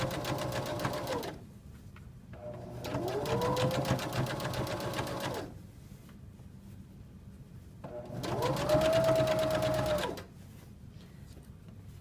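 Sewing machine stitching a zipper onto a sweatshirt runs in three close, loud bursts of rapid mechanical whirring, each a couple of seconds long, separated by quiet pauses.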